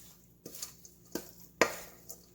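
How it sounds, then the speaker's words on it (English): Fresh herbs are tossed lightly into laab beef in a bowl, making a few soft scraping and clinking touches of a utensil against the dish. Brief quiet rustles fall between them. "Just lightly mix it in there."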